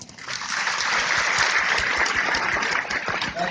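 A church congregation applauds during a worship sermon, a steady, dense wash of clapping from many hands that continues throughout without any speech.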